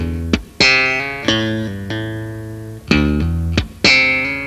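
Bass guitar runs through a slap and tapping figure: thumb slaps, hammered notes and a muted slap, about seven punchy attacks in an uneven rhythm, close and solo.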